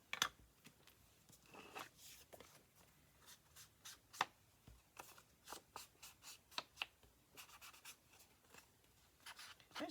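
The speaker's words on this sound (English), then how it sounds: "Crunch up the sides a little bit." Craft paper is crunched and crinkled at its edges by hand in a series of quiet, close, irregular rustles and crackles, with no talking.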